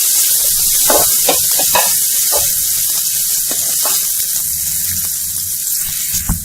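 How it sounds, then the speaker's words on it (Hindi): Finely chopped onion sautéing in hot oil with cumin, a bright continuous hiss of frying broken by repeated scraping strokes of a spoon stirring through the pan. "इसके बाद हम डालेंगे यहाँ पे बारीक कटा हुआ प्याज। प्याज को पहले हल्का सा भून लेंगे।"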